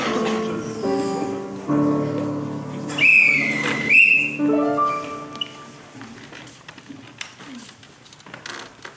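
A referee's whistle at a live improv theatre show, shrill tonal blasts rising over crowd murmur and broadband noise, followed by quieter scattered audience sounds and clatter.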